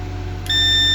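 A multimeter in continuity mode sounds a sharp, steady beep while its probes test a circuit path on a laptop motherboard with a charging fault, starting midway and holding constant over a low hum.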